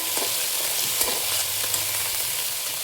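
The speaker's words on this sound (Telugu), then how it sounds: "దీంట్లో కొత్తిమీర, పుదీనా, పచ్చిమిరపకాయలు వేసి ఒకసారి ఫ్రై చేసుకోవాలి." Onions frying in a pan with coriander, mint and green chillies, giving a steady close sizzle throughout with soft stirring scrapes and no talk.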